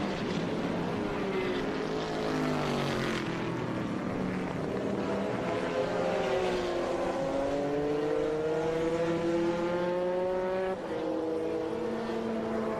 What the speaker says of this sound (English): Corvette sounds so good.